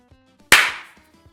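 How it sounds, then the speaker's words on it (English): A single sharp hand clap, close and loud, with a short ringing tail, amid a quiet room with faint soft sounds. "Sorry, I know I scared you with the clap."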